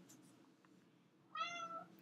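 A pet cat meows once in the background, a clear medium-length call arriving after a short quiet stretch with faint room noise.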